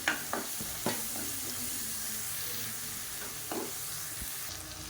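Tomato masala side dish sautéing in a pan, a steady frying sizzle with a few sharp clinks and stirring scrapes at irregular intervals, close and continuous.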